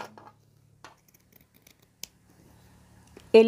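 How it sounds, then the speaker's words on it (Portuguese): Scissors cutting through quilt batting at close range, giving a few quiet, crisp snips spread over a near-silent background, with a louder sharp burst at the end. "é mais fácil fazer com a tesoura"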